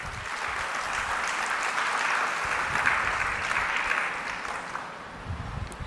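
A church congregation claps in praise, a dense, sustained burst of many hands that carries on for several seconds before thinning out near the end.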